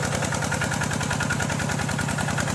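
Small engine of a water pump driving water out to catch fish, a steady rapid chugging, loud and close, running alone without talk.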